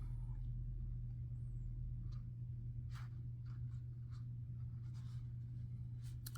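A pen scratches out short strokes on the page of a paper planner. The bursts are faint and irregular and sit over a steady low hum in the room.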